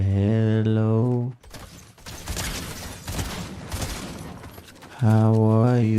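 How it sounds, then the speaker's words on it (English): Rapid gunfire from the video game Fortnite crackles in dense bursts for several seconds, set between stretches of sustained tonal game music or voice at the start and end. "I hear some shots over there."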